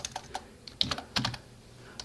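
Keys on a computer keyboard clatter in a few quick, uneven bursts of close clicks over about two seconds, with short pauses between the groups of keystrokes.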